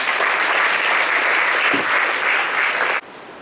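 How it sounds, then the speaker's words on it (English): An audience at a college engineering anniversary event claps loudly in a continuous wash of applause that stops abruptly near the end. "Please give a big round of applause."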